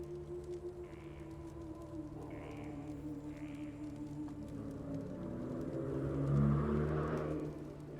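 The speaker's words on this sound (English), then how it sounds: "Loud car." A loud car passes outside, its low engine rumble swelling to a peak near the end over a steady background hum, with faint game tones earlier.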